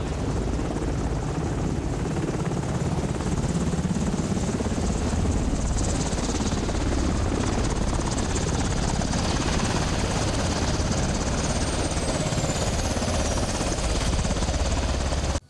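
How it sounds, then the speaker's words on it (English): Helicopter flying overhead, a steady loud rotor and engine roar that holds for the whole stretch with no voices over it. "they just show up in a helicopter and you hop in and leave?"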